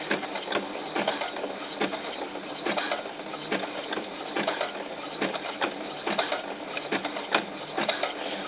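Electronic sewing machine stitching a zigzag on doll underwear fabric, a steady fast mechanical whirr with rhythmic needle clicks, close and moderately quiet, no talking.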